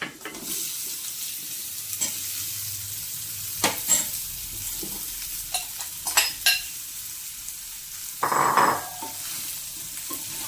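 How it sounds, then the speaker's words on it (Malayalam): Chopped gooseberries stirred in hot oil for a pickle: a steady sizzle under repeated close scraping and clinking of the spoon in the pan, with a brief louder fizz near the end and no speech. "നന്നായിട്ട് ഇളക്കി കൊടുക്കണം"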